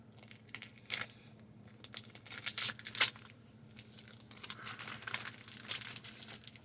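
Plastic wrapper on a comic book pack crinkles and crackles close up while a knife slices it open, irregular bursts of rustling with one sharp snap partway through, no talking.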